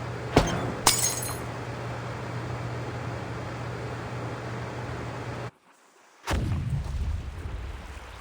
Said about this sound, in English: Sounds like some kind of explosion near the clinic.